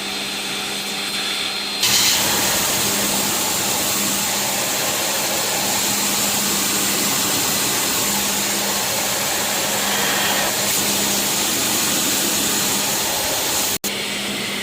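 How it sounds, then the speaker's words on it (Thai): A loud, continuous high-pressure water jet hisses steadily at close range for over ten seconds, spraying a Mazda 3 radiator, cut by a brief sharp click near the end. "ฉีดล้างทำความสะอาดแผง หน้าหม้อน้ำให้นะคะ"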